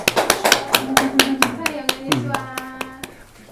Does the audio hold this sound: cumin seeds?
no